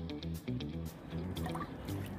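Homemade fermented insect repellent is poured into water, a continuous liquid trickle and dribble running for a couple of seconds over a steady background hum.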